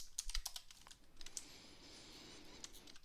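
Quiet, irregular keystrokes tap on a computer keyboard during game development work, a few scattered clicks early and another near the middle over faint background hiss.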